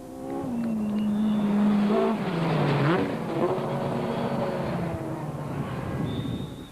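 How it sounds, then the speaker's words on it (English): A VW Golf rally car races past on a stage of the Cape Rally, its engine note climbing and dropping through gear changes as it nears and moves away, loud and alone without talk. "Making it a VW threesome were Barry Grobbelaar and Carolyn Swan"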